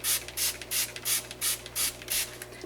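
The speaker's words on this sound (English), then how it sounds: "I'm just going to spray that" Spray bottle misting handmade chia seed gel soap, eight quick evenly spaced hissing bursts close to the mic, with no talking.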